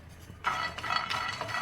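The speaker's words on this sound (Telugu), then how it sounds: "ఇప్పుడు బాదం పప్పుల్ని మీడియం ఫ్లేమ్ పెట్టుకొని వేయించుకుందాం." Almonds roasting in a hot pan over a medium flame, being prepared for dry-fruit kajjikayalu: close, steady rattling and scraping of nuts stirred against the metal pan, starting after a short quiet moment, with no talking.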